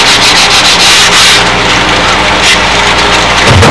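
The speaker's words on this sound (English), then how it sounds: "I have a piece of sanding grit hooked to the table here. I just run it on there." Wooden parts for a windmill sidewinder model are rubbed together against a sanding belt glued to a tabletop, giving a loud, continuous, gritty scraping that runs steadily with small strokes and no pauses.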